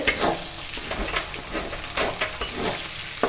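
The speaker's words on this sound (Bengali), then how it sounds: "আমাদের পেঁয়াজ ভাজাটাও কিন্তু সুন্দরভাবে হয়ে যাচ্ছে।" Ground onion frying with chicken in its juices, close, steady sizzling with repeated spoon scrapes and stirring strokes against the pan.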